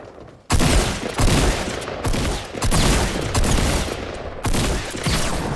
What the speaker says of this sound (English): Oh, shotgun, that's always good. Shit, I missed both of my shots.